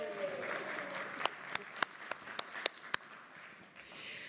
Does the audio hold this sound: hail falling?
no